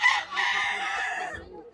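A large free-range country rooster at a farm poultry outlet crows once, a loud, close call that swells, holds and then trails off over about a second and a half.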